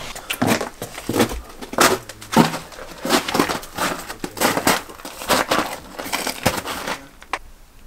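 Broken glass shards crunch and crackle underfoot on a floor, a steady series of close, sharp crunches and scrapes with irregular rhythm, no voices.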